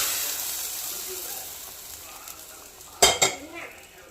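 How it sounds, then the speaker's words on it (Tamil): Spices for tempering sizzle in hot oil for a mutton and bean curry, giving a steady frying hiss that slowly fades. Near the end a sharp clatter of a pan or utensil breaks in. "தாளிச்சு கொட்டியாச்சு."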